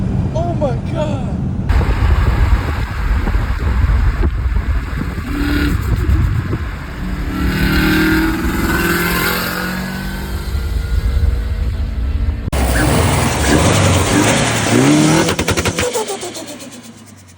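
A Subaru WRX being driven hard, its engine revving loudly and accelerating with sustained roar and gear-change shifts, close and prominent throughout.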